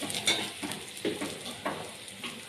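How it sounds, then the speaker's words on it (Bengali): Onion and garlic frying in a pan, a quiet sizzle broken by a few soft stirring scrapes at intervals, close and low in level with no talking. "পেঁয়াজ রসুনটা খুব সুন্দর করে ভাজানো হয়ে এসেছে।"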